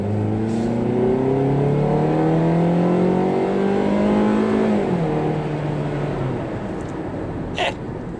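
A Ford EcoSport Storm accelerates hard on the road, its engine note climbing through the revs, dropping at a gear change and rising again, heard from inside the cabin with no talk.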